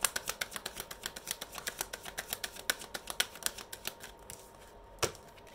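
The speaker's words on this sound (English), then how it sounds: "Did I shuffle the deck?" A deck of cards being shuffled: a quick, even run of crisp clicks lasting several seconds, closing with one louder snap.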